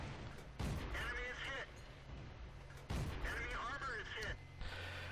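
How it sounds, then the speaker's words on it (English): Tank cannon fire in World of Tanks on the Steppes map, with a Valentine II tank under fire from several directions. Heavy booming shots land in two bursts, each with a rumbling tail, loud and close, and a voice talks over them. "You can see that people are shooting at me from all directions."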